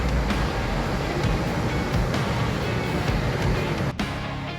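Ocean surf at Maroochydore Beach roars continuously and loud with strong wind buffeting the microphone, a thick broadband wash with a brief dropout near the end.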